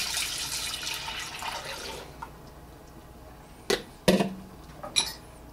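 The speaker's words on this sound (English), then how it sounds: "now, put 3 cups of soy sauce in here" Soy sauce poured into a pot to make Korean cucumber pickle brine: a fairly soft stream of liquid runs for about two seconds and then fades, followed by a few sharp clinks and taps nearby.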